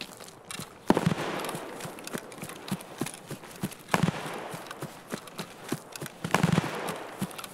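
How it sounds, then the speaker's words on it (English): Distant gunfire from other players in Escape From Tarkov, scattered sharp cracks and bursts at irregular intervals, fairly faint under ambient game noise. "they're shooting at the bosun guy"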